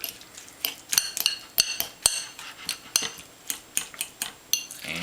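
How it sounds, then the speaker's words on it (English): A spoon scraping and clinking around a bowl of chunky guacamole, a steady run of bright metallic taps and knocks, close up with no talk. "just give it a stir"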